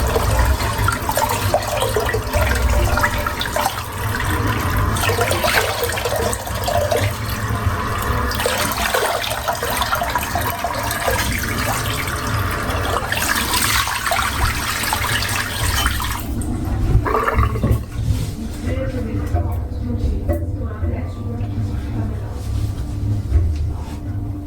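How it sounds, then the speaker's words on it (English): A shaving brush is rinsed under a running tap, with steady, close water rushing and splashing for most of the clip before it eases to a quieter trickle near the end. "let's rinse the brush out"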